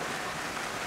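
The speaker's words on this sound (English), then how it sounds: "So just a whole bunch of rain." Rain from a passing squall falls on a sailboat at sea, a dense, steady hiss of drops close by with no voices.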